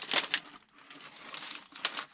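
Plastic bags from a model car kit crinkle and rustle close by in a few soft bursts, with brief pauses between handlings and no talk.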